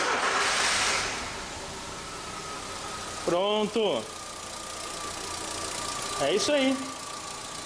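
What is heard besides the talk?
Volkswagen Golf engine starting and idling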